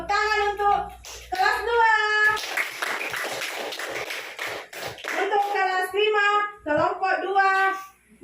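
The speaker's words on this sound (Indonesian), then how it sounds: "Tepuk tangan untuk kelas 2." Children in a combined-grade classroom clap together in a dense burst lasting about three seconds, set between stretches of chanting or sung voices that come before and after.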